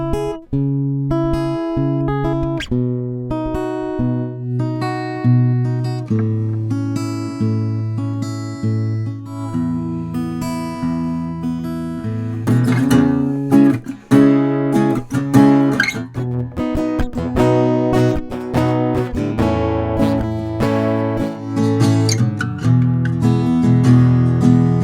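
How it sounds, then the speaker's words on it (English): Strummed acoustic guitar chords move through a short progression, ringing and sustained, played alone with a fuller, brighter strum in the second half. "I'm just going to play a quick little 4-chord progression"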